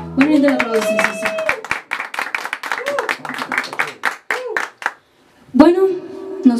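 A small party group at a birthday celebration with a mariachi band claps in a quick burst of handclaps, with voices and a sung or sustained tone over the clapping and a short pause before more voices.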